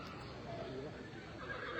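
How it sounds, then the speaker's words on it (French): At an outdoor horse show a horse whinnies faintly in the background amid crowd noise, while an announcer talks over it. "Le cheval de Philippe Hardy, qui est un fils de Silver Wave."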